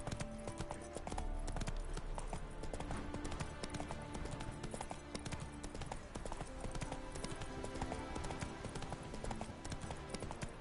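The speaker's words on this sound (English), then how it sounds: "Come on, Roach" A horse gallops in The Witcher 3: Hearts of Stone, its quick rhythmic clip-clop hoofbeats steady and close throughout, layered over dense game music and ambience.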